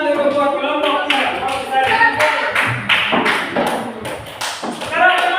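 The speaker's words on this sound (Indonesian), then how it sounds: "Kita tepuk tangan dulu buat kelompok kita." People in a teacher-training session clap for a group, with rhythmic taps and claps rising and falling close by while voices talk and call out over them.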